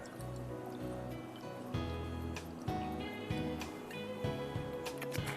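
Italian pomace olive oil being poured into a pan for a boneless chicken gravy, with a steady liquid trickle and drips continuing throughout, over a low background hum.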